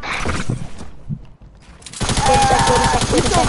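Rapid gunfire from an online shooter video game bursts loud and dense in the second half, following quieter game noise and brief voices at the start.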